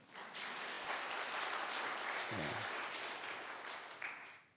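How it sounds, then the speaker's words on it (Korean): A church congregation claps together for a few seconds, steady and fairly distant, then the applause fades out. "박수 한번 해주세요"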